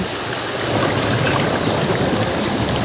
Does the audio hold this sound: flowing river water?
yes